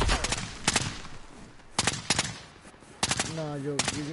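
Gunfire in a PS4 video game, short rapid bursts of automatic fire in three clusters with gaps between, fairly loud, with a brief voice near the end.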